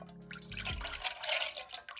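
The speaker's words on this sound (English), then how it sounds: "we're going to start by putting 1/2 cup of water in this pot" Half a cup of water poured into a cooking pot for raspberry sauce, a short close splash and trickle that settles into light dripping over about two seconds.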